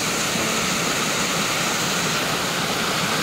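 Dara Falls waterfall pouring as a dense, steady roar of rushing water, broadband and continuous from start to end, close and loud with no voices over it.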